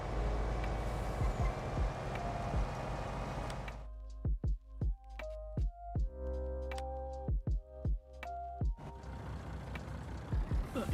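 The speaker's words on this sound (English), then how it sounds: "He just leaves my engine running" A truck's engine idles steadily with a low, continuous drone in Farming Simulator 22 during a late-autumn corn harvest, overlaid with clusters of short, bright beeps and clicks.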